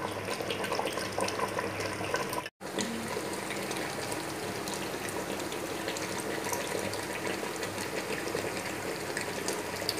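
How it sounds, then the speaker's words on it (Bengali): Hot water pours steadily into a pot of mutton curry, a continuous splashing gush with one brief break near the start. "মাংসটা কষানো হয়ে গেছে, এবারে গরম জলটা দিয়ে দেওয়া হলো।"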